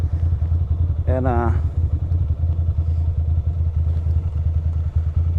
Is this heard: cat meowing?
no